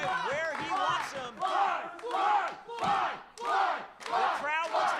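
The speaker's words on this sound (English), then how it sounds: "The crowd wants Desmond to fly" Crowd at a wrestling show chanting and roaring in rhythmic surges, five or six loud swells of massed voices rising and falling in a steady pulse.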